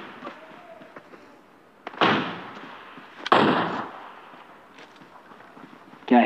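Sniper rifle shots ring out in the game PUBG: three sharp, loud cracks spaced a second or more apart, each with a short echoing tail, over a quiet background.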